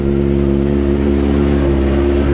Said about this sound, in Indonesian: Nah ini terus gua nyalain, gimana suaranya guys.